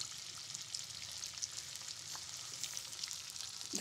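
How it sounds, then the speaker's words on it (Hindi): Battered marinated chicken frying in hot oil in batches, a steady dense sizzle with continuous crackle filling the whole stretch, close and even, with no talking. "अब हम इसमें चिकन ऐड करेंगे और दो या तीन बैचेस में हम इसको फ्राई करेंगे"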